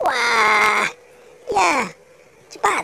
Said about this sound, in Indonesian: Kayaknya kucing ini. Kucing apa ya?